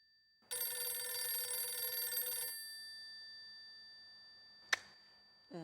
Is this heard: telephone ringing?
yes